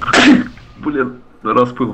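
A single sharp human sneeze bursts out loudly at the start, and people speaking Russian follow right after it.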